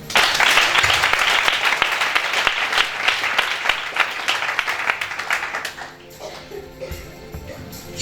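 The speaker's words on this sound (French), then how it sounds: "je pense qu'on va acclamer Dieu" Church congregation applauding and cheering in praise of God, dense sustained clapping with crowd acclaim for about six seconds before it thins into scattered claps and murmurs.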